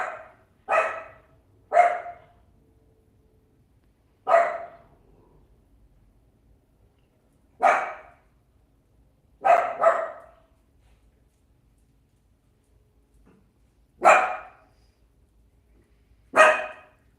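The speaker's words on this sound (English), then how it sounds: "the dog's barking" A dog barks in sharp single and double woofs, eight or so separated by quiet pauses, moderately close in a home kitchen during dinner cooking.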